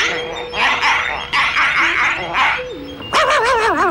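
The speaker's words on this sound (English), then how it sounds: "So that's it, a robot dog." Robot dog barking in the Where's Wally cartoon, a string of short electronic yips and bow-wows close and clear, ending in a wavering, warbling burst.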